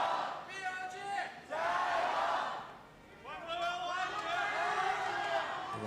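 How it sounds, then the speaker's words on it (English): An esports venue crowd at an LPL League of Legends match roars and cheers in loud, sustained swells, with a brief dip midway before surging again, filling the arena throughout. "Love the crowd. They're ready for this game."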